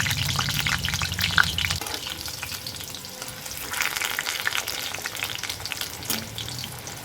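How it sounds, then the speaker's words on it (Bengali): Potatoes fry in hot oil with a loud, steady sizzle that carries on without pause and without any talking. "তেলটা গরম হয়ে গেছে আলুগুলোকে তেলের মধ্যে ছেড়ে দিচ্ছি একটা একটা করে"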